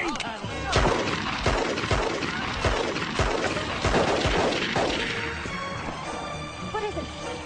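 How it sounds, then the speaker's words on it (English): A rapid series of sharp bangs like gunfire, repeating under excited shouting voices. "What is it? Gunshots."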